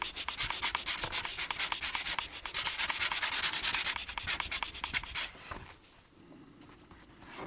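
Hand sanding a 1974 Hot Wheels Super Van toy with 1800 grit cloth-backed sandpaper: a steady, close, rapid back-and-forth rubbing scratch for about five seconds, then a quieter pause.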